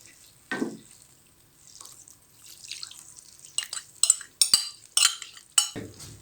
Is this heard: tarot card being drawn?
no